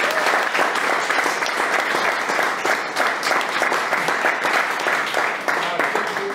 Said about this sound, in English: Keep the applause going, guys.